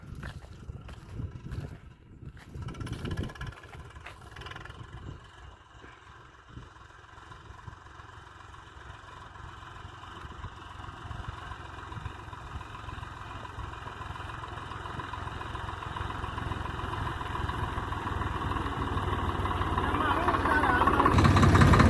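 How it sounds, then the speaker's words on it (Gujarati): A tractor engine rumbles beneath talking on a farm, its low drone gradually growing louder as the tractor draws nearer toward the end. "જો હાલ્યું આવે ટ્રેક્ટર આપણું"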